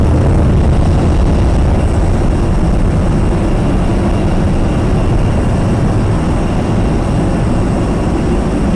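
An Airbus A321 airliner heard from the cockpit during takeoff gives a loud, steady low roar from its jet engines along with broadband rumble, continuous throughout and with no talk.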